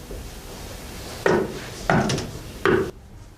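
Three sharp, close knocks land on a wooden door at the Jamaica Inn, spaced unevenly over about two seconds in a quiet room.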